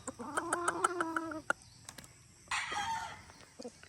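White Kelso gamefowl rooster clucking and calling nearby in a short rhythmic burst, followed by a brief pause and then a louder harsher outburst.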